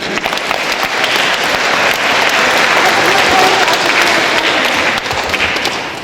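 Applause at a parish Epiphany (Three Kings) celebration in Wrocław, greeting the winning nativity scene made of pasta; dense, steady clapping from an indoor crowd lasting about six seconds, loud and close, with a few voices mixed in.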